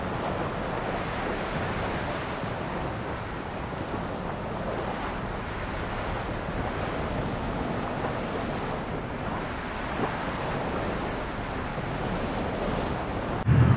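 Wind gusts roar and rumble against the microphone outdoors by a marina on the Firth of Forth near Edinburgh, mixed with a broad wash of water noise, with no talking.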